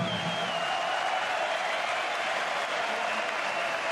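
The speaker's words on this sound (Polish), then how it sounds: "eiköhän anneta raikuvat aplodit näille sotureille" Steady, enthusiastic applause from a large boxing crowd after the final round of a heavyweight bout, a dense wash of clapping that holds evenly throughout.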